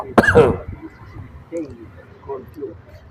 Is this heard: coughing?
yes